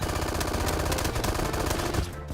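Rapid hipfire from a gun in Roblox Bad Business, a dense automatic burst of closely spaced shots that runs loud and unbroken for about two seconds before cutting off.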